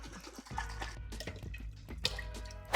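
Leftover water from a pasta sauce can is poured into a pot, a faint, close trickle and splash with small drips over a soft background.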